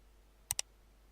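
A computer mouse clicks twice in quick succession while placing a point in AutoCAD, crisp and close against near silence.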